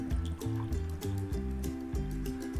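Leftover tea water is poured into a glass, giving a close, steady gurgling trickle with rhythmic glugs and rising tone throughout, with no talk.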